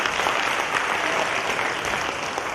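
An audience at an Indigenous-language drama competition in Hualien, Taiwan, claps together to encourage itself. The applause is dense and steady, holding at an even level for the whole stretch.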